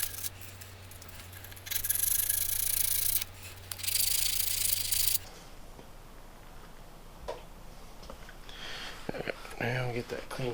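Fine-grit sandpaper rubs a Kawasaki KX450F front fork part in a workshop: intermittent bursts of dry, raspy scraping over several seconds, followed by quieter handling noises and soft taps.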